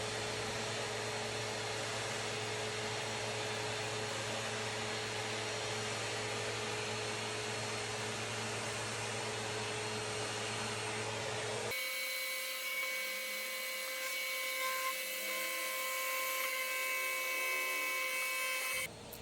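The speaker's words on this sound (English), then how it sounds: "The trick to vacuum out fruit flies is to move very slowly" A vacuum cleaner runs continuously with a loud, steady whining roar, close by, sucking up fruit flies in a room infested with insects, its pitch and tone shifting partway through.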